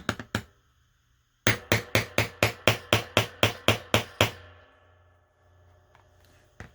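Sharp hammer blows ring out during junk-journal crafting, a few quick strikes, a pause, then a steady run of about a dozen evenly spaced hits before fading to quiet.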